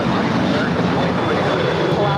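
A 20-year-old Boeing 737-800 airliner takes off from LAX bound for Denver, its engines a broad, steady roar at full power, loud and unbroken over the short stretch.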